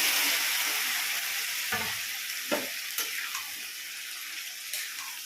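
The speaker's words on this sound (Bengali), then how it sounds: "এবার আমি মাটনটা কড়াইয়ের মধ্যে দিয়ে দেবো।" Mutton sizzles in a hot kadai over a lowered gas flame with tempered spices, a close, steady frying hiss broken by a few scraping stirs.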